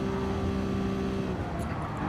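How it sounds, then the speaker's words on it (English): A race car engine in Gran Turismo Sport screams against its rev limiter on a long straight, a loud, continuous, near high-pitched drone with a steady buzzing tone that fills the whole stretch, no speech over it. "Only 5 gears and we hit the rev limiter by this point"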